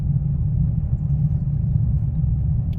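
Car driving on a road, heard from inside as a steady low rumble of engine and tyres, continuous and fairly loud with no change in pace.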